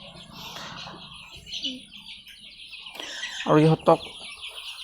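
Sonali hens on a chicken farm in Assam give soft, scattered clucks through a steady background of poultry noise, with a louder burst of calls near the end and a person speaking over parts of it.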